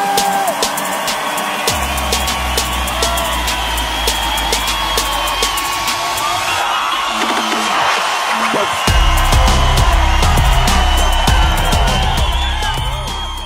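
A comedy-show audience cheers, whoops and applauds as three comedians are introduced, a loud, dense crowd roar running throughout with a low rumble and a surge of noise near the end.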